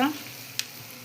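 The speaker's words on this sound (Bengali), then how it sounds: "আমার মশলা থেকে অলরেডি তেল ছাড়া শুরু করে দিয়েছি, কিন্তু মশলাটা খুব ভালো করে দেখো আমি লাল করে কষিয়ে নিয়েছি।" Spice paste (masala) frying in oil for Bengali aloo dum potato curry gives a faint, steady low sizzle across a brief moment, with a voice briefly at the start and a single sharp click midway.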